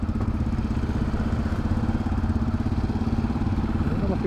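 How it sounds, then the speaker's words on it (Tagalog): Motorcycle engines idling near a market parking area in Subic, a loud, close, steady mechanical chugging that runs throughout with a faint rattle. "Yung mga motor naman."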